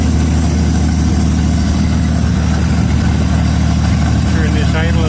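A 1933 Auburn V12 boat tail Speedster engine idles steadily and loudly after 58 years in a museum, a constant heavy rumble with the idle sped up, while someone talks over it.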